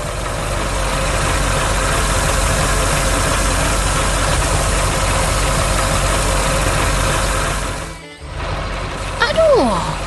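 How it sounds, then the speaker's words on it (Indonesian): A cartoon blue tractor hauls an orange trailer through a green park, its engine droning in a steady, loud idle-like hum that cuts off abruptly near the end before a brief squeaky sound. "traktor biru sedang mengangkut trailer oranye di taman yang hijau dan penuh"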